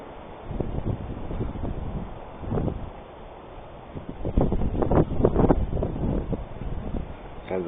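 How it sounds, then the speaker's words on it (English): Strong wind at Inspiration Point, Grand Canyon of Yellowstone, buffets the microphone in gusts, rumbling loudly and steadily, with a few faint voices underneath. "It is muy windy."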